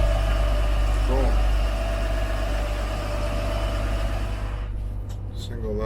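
Twin boat engines on a Riviera 3600 Sport Coupe idle at sea with a steady low hum and drone, close and continuous, with voices talking over it before it drops off near the end.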